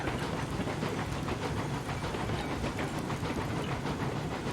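Eureka steam locomotive running along rails at modest speed on the way to the iron works, a steady rumbling clatter with continuous mechanical rattle heard from aboard, no talk.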